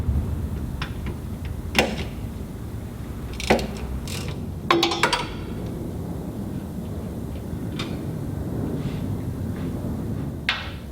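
A ratchet turning a 13mm socket backs out the front diff guard bolts on a Land Rover Discovery 2, with short ratcheting clicks and metallic clanks coming in scattered bursts over a low steady background hum.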